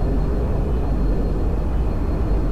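A Harrier jet flies low in the Project Reality video game, a loud, steady, dense engine roar that holds constant throughout.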